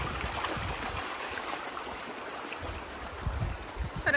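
A shallow river flows and burbles around someone wading through it with dogs, a soft steady outdoor wash of moving water with low splashy bumps from footsteps and no talking.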